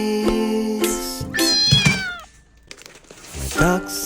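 Within a cheerful children's-style song, a singing voice imitates a cat with a couple of drawn-out, pitch-bending meows over light musical backing.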